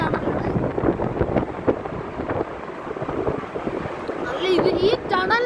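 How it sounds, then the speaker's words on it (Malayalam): Cold wind rushes through the large Atal road tunnel on the way to Manali, a steady loud roar and buffeting against the microphone, with a voice speaking briefly near the end. "ഈ ടണലിനകത്ത് വരെ നല്ല തണുത്ത കാറ്റുണ്ടെന്നുള്ളതാണ്."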